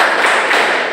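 Quick, dense clapping from many hands in a classroom routine, loud and close, filling the whole brief moment with no voices.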